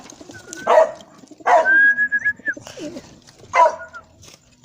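A pair of homing pigeons scuffle and coo in a few short, close bursts of throaty calls and flutter, separated by brief quiet gaps.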